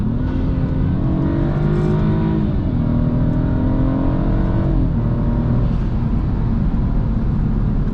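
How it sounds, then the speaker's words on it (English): A BMW F30 328i in sport mode with the sport gearbox, the gas tapped so it downshifts: a loud, sustained engine drone that rises in pitch twice as the revs climb, heard from inside the car with no talking. "Did you guys know if you're in sport mode in the sport gearbox and you tap the gas, it downshifts?"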